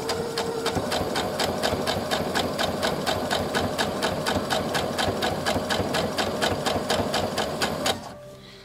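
Sewing machine stitching a quilt block a quarter inch from the line, a loud close rapid rhythmic chatter running steadily for about eight seconds, then stopping abruptly.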